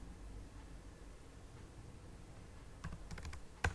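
Keys clicking on a computer keyboard while AutoCAD commands are typed in, a short burst of sharp, close taps near the end after a steady faint hiss.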